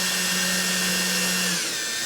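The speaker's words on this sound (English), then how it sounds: "Use my drill again here." A power drill whines steadily while pre-drilling holes in plywood, a close continuous motor tone that cuts off near the end, leaving a faint hum.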